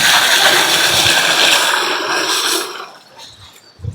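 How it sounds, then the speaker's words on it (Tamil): Clean water gushing loudly into a metal cauldron, a full steady pour that tapers off near the end, close up. "சுத்தமான தண்ணியை ஊற்றணும்"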